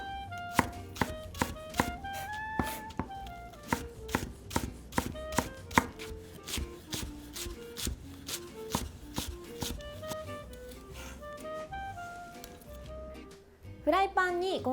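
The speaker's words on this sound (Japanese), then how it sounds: "真ん中に1本切り込みを入れて、この後ろは根元は残した状態で切っていきます" A knife chops a Japanese long green onion, split down the middle with the root end left intact, into half-moons on a cutting board: a quick, steady run of crisp taps, close and clear, with tonal sound running underneath.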